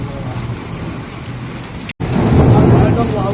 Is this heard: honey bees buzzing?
no